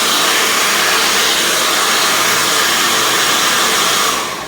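A handheld hair dryer blows loud and steady while hair is blow-dried straight around a round brush, a continuous broadband whoosh that eases off slightly at the very end.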